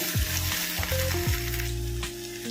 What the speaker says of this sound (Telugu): ఇప్పుడు అల్లం చిన్నపాయ పేస్ట్ వేసి ఇది కూడా కొద్దిగా దోరగా వేగనిద్దాము